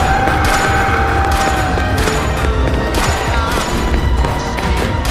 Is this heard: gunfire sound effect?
yes